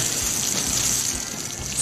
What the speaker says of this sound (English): Water the plant, Scott told Jan.